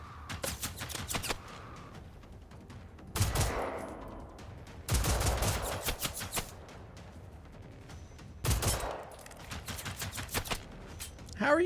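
Gunfire in the video game Generation Zero aimed at the player, coming in several loud bursts of rapid shots separated by quieter stretches, with a voice talking faintly in between.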